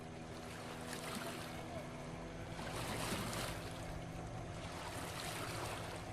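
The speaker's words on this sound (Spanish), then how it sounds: "abordamos una lancha rápida que va bordeando hacia el sur la costa del mar Pacífico" A speedboat runs south along the Pacific coast, with a steady broadband engine drone mixed with rushing water and wind, continuous and fairly close throughout.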